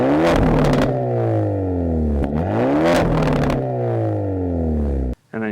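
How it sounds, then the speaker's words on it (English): A 2025 Hyundai Elantra N with a dual-clutch transmission and big exhaust revs hard three times, each climb and fall close and loud, then cuts off abruptly near the end. "You got the big old exhaust for those nice pops and burbles."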